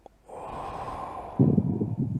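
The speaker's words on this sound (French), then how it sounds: "on va faire une respiration" A single deep breath is taken during a guided breathing exercise: a long, steady inhale through the nose followed by a louder, rougher exhale, close and clear with no talking.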